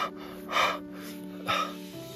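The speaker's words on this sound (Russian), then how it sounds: "Я вот дышу" Heavy, labored breathing of a climber at about 5,700 metres on Kilimanjaro: two loud, drawn-out breaths close to the microphone, with no talking.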